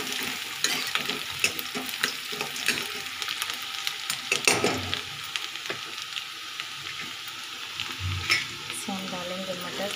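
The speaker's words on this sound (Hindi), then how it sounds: "प्याज को हम लोग सुनहरे रंग का भून लेंगे।" Onions frying in a pan until golden for egg fried rice, a steady dense sizzle with repeated scraping and clattering from stirring throughout, close and fairly loud with no talk.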